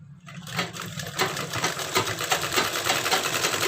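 An electric sewing machine stitches a belt blouse with embroidery work, a fast steady whirring clatter that starts after a brief quiet moment and runs continuously, close and fairly loud, with no one talking.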